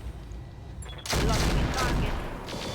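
Mech weapons in the video game RogueTech open fire on a Banshee mech: after a second of quiet, a loud, dense burst of gunfire and impacts erupts and holds for the rest of the clip.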